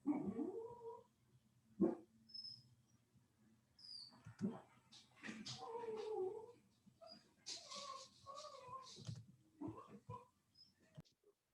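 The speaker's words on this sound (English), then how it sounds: "I had to pause it because the dog was barking." A dog barks in short bursts with whimpering sounds, mixed with background voices and household noise.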